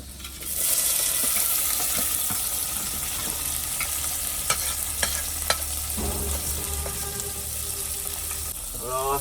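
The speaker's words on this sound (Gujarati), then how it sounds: "તો આવા જશે ટોમેટો ડુંગળી મરચાં" Tomatoes, onions and chilies frying in a pan during roadside cooking on a truck journey, a continuous close sizzle with intermittent stirring clatter and scraping, some speech partly audible over it.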